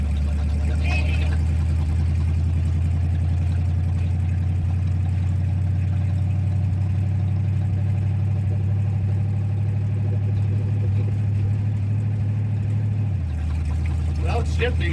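A car engine runs rough and skips, holding a loud, steady low rumble close by for most of the time before the pitch drops near the end, with people talking over it.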